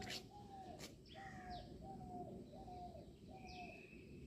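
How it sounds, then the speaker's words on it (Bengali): A dove coos outdoors in a rural autumn setting, several soft repeated coos spaced about half a second apart over a quiet, faint background. "মানে ঘুঘু পাখি এই ডাকটা শুনলেই না"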